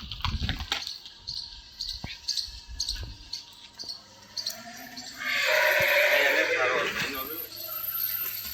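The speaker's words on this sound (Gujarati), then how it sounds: "ઘોડાને બહાર કાઢી લીધો છે." Close, loud whinny from a horse just led outside in Junagadh, a long quavering neigh rising mid-clip after scattered thumps and hoof sounds, with someone talking early on.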